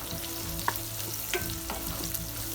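Onions frying in a pan for pudina rice, with a steady close sizzle and occasional light scrapes and clinks as they are stirred, no voices.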